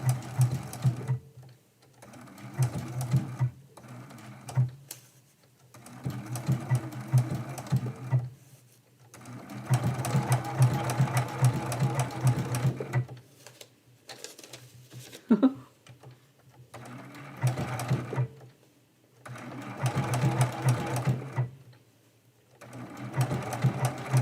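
A sewing machine stitches down appliqué fabric on a quilt, close, steady mechanical whirring in bursts of several seconds separated by short pauses.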